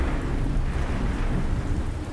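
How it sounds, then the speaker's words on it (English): Steady rain pours outside while thunder rumbles low and continuously underneath, a dense, unbroken wash of storm noise with no voices. "so all this rain is why you get flooded out?"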